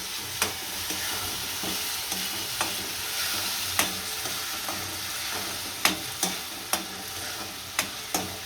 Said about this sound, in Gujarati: હવે આપણે ટમેટાની પ્યુરી નાખીશું. આને ભેળવી લઈશું.